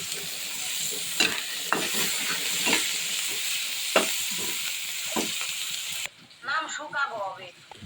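Eggplant fries in oil in a pan with a steady sizzle and hiss, broken by repeated stirring scrapes. Someone speaks over the cooking near the end.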